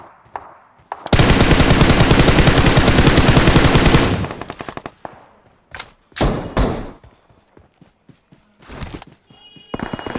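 Gunfire from bots fighting each other in the BGMI mobile battle royale game: a long, loud, continuous automatic burst followed by scattered single shots and thuds.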